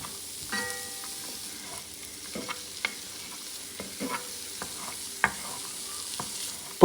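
Mirepoix vegetables sizzle gently in a pan over medium-low heat while a spoon stirs them, a soft frying hiss beneath scattered scraping and tapping knocks, with a sharper clack right at the end.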